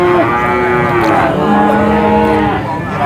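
Simmental cattle lowing at a busy livestock market, one long, loud moo rising and falling close by, then a second drawn-out call, with crowd murmur underneath.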